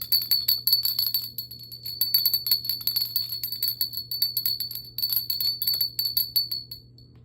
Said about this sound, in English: today I got this nice little bell I'm going to use